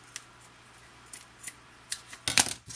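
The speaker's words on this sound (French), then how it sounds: "on coupe l'excédent ici" Scissors snipping off the excess string on a scrapbooking mini album, a few light ticks leading to a loud, close double snip near the end, with no speech.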